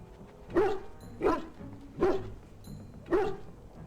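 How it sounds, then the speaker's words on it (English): A dog in the video game Dragon Age: Origins barks four times in an evenly spaced series, each bark short and sharp, close and clear with quiet gaps between and no talking. "Puppy."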